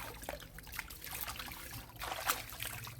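Water runs and trickles while fish are washed by hand, a faint continuous splashing with small irregular splashes and a low background hum.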